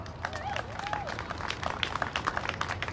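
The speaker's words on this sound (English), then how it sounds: "Can we give it up for Corey Jones?" Crowd at a Black Lives Matter PAC rally in Rhode Island applauding and clapping steadily, with scattered cheering voices over the noise throughout.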